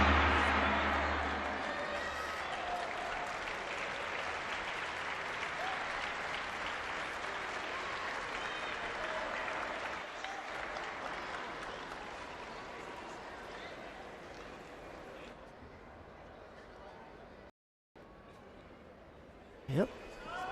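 Spectators at a judo match clapping and cheering, loud at first then easing into steady applause with a commentator talking over it, ending in a brief cutoff and a sharp thump.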